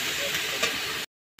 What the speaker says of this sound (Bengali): তো চলো ভালো করে আমি কষিয়ে নিচ্ছি।